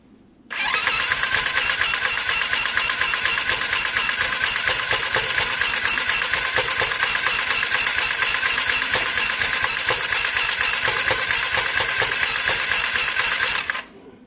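A Lexmoto Diablo 125cc motorcycle engine cranks and struggles to catch, a loud, steady churning buzz running for about thirteen seconds before cutting off, with no one talking.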